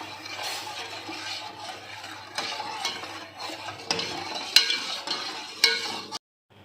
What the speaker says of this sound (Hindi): चीनी को मिक्स करना है इसमें।